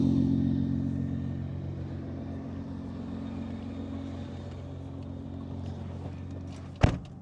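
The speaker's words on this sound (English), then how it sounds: "we're just testing the launch control modes" Idling, burbling engine of a Nissan R35 GTR with a Motec M150 ECU, held on launch control from outside behind the car, a steady low rumble before a sharp loud bang or pop near the end.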